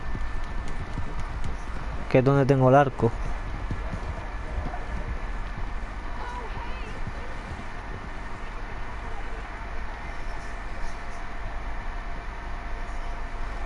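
Horse hooves clip-clop in the video game Red Dead Redemption 2, a brief rhythmic run of hoofbeats among wind and game ambience while someone talks over much of the scene.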